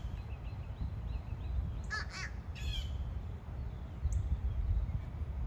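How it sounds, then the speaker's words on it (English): Crows cawing outdoors: a few harsh, loud squawks in a quick pair around the middle and a short one later, over steady low wind or traffic rumble, no talk. "It brings in some air and its body gets a little bit bigger and then it squawks really loud."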